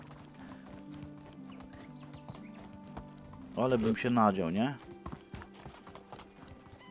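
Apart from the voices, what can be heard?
horse hooves clip-clopping while riding in Medieval Dynasty video game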